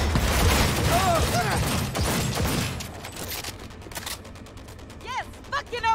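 Gunfire in Cyberpunk 2077: a dense, loud barrage of shots and mechanical clatter for a few seconds, then thinning into sparse bursts and electronic chirps, with voices talking over it.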